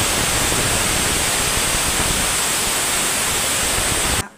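Fennel seeds sizzle in hot oil, tempering the base for a potato masala. A loud, close, steady hiss with dense crackle runs unbroken for about four seconds, then cuts off abruptly, with no voices.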